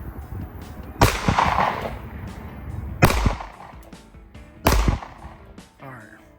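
Three sharp gunshots from a new gun fired outdoors, each a loud crack with a brief echoing tail, spaced about two seconds apart, over faint background ambience.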